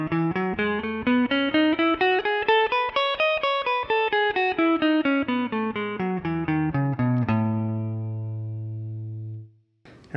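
An electric guitar with distortion and chorus runs a Lydian scale pattern up and back down across six strings in steady evenly spaced notes, then rings out on a long sustained low note that decays, close and alone.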